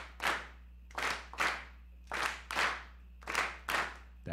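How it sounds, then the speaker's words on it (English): A room full of people claps in unison, each loud, sharp clap landing together as one with a short ringing tail, six or seven strikes at a steady, slightly uneven pace. "This whole room should sound like just one person clapping."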